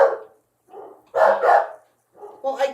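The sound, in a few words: dogs barking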